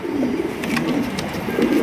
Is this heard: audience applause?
no